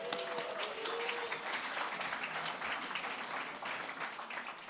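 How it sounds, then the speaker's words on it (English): Audience applause fills a hall at an AIA Seattle architecture gathering as board members of AIA Seattle and the Seattle Design Festival are recognized. The clapping is dense and steady from start to finish. "All right, clap."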